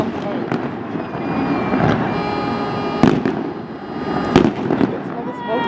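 New Year's Eve 2017 fireworks at the Seattle Space Needle, a loud, dense crackling barrage with heavier booms bursting through, heard from the crowd as people talk nearby.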